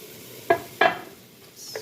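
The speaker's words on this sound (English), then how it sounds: "now that the string bean and the carrots and the celery almost cooked, I'm gonna add in the tomato" Chopped tomato drops into a pan of cooking string beans, carrots and celery, two quick clattering stirs with a soft sizzle and a faint scrape at the end, close and otherwise quiet.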